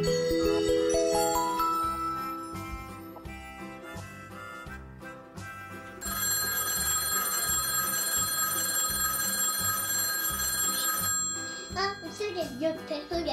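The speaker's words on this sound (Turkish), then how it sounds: "Yok, telefon geldi." A telephone bell rings in a toy-like electronic tone with jingling overtones, continuous and fairly loud over a bouncy background, alongside a voice in a playful store scene, with a burst of chatter at the end.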